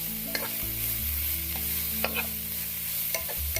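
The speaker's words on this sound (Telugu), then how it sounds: "దీంట్లోనే మనం సన్నగా తరిగి పెట్టుకొని పచ్చిమిర్చి వేసుకొని హై ఫ్లేమ్లో మనం కలుపుకుంటూ ఉండాలి" Thinly chopped green chillies are stir-fried on high flame for veg fried rice, a continuous loud sizzle with quick scraping stirs and a steady low burner hum, with no voices.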